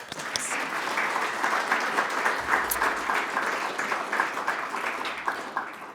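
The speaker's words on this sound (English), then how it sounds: "I think we should give them all a applause." Audience applause for volunteers at a public energy dialogue event in Melbourne, a sustained even patter of many hands that swells quickly and holds steady, with a brief thump near the start.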